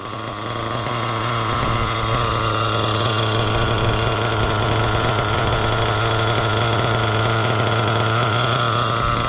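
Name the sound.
nitro RC engine running after carburetor leaning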